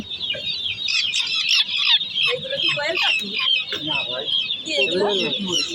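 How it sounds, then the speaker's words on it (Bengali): A crowd of young guinea fowl chicks at a farm cheep constantly in a dense, high-pitched chorus, with someone talking over them at close range. "এগুলো সব তিত মুরগির বাচ্চা তিত মুরগি"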